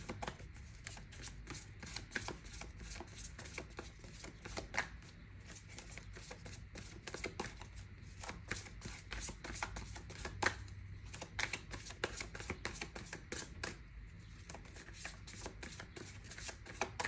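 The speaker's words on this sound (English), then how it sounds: "no matter how many times I shuffled" Tarot cards are shuffled over and over in a steady stream of quick riffling clicks and flutters, close and even in loudness, with no talk.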